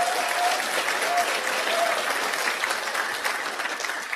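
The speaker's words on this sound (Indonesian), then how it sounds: "tepuk tangan dong gitu" A seminar audience for a TIENS business talk breaks into sustained applause, a thick, even wash of clapping heard throughout, with a faint voice briefly underneath early on.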